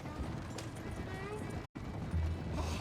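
Horse hooves in Red Dead Redemption 2, a rapid clip-clop gallop under an ongoing game soundscape, with a voice talking and a brief cut to silence midway.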